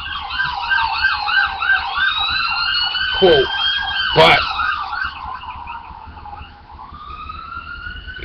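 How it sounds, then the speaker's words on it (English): Ambulance and police car sirens wail and yelp together on a city street, loud rising and falling tones with a brief honk, with a few spoken words. "like you hear ambulance, police cars"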